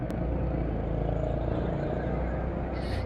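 Steady engine rumble of road traffic in Makassar, with a small angkot minibus's motor droning nearby, continuous and moderately loud.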